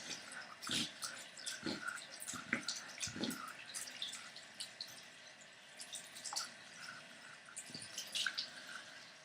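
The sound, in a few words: rinsing septum piercing jewelry with water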